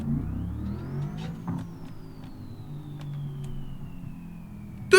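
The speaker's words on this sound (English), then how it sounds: "The turbo whistles!" A car in BeamNG revs up with a rising turbo whistle, the engine building then easing off into a steady drone while the whine falls away, a sharp burst at the very end.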